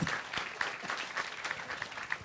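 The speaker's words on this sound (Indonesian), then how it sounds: "Ya, tepuk tangan." An audience claps steadily at an evening gathering, a dense patter of many hands running throughout at moderate loudness with no talk over it.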